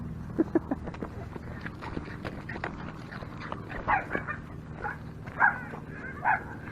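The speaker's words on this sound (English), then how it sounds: "there's another dog" A dog gives a few short barks and yips at a distance, spaced irregularly over a low rumbling background.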